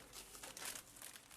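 Golden foil-lined paper dessert box with a red paper exterior crinkling steadily as it is handled, a close, continuous rustle that swells and fades over about a second and a half.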